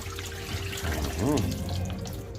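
Raw fish for a Jamaican brown stew being rinsed under a running kitchen tap, a steady splashing flow with a brief louder gush midway, close by.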